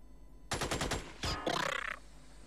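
A quick burst of five rapid gunshots from the strategy game Xenonauts, then a single louder shot and a sharper crackling volley, close and loud with no talking.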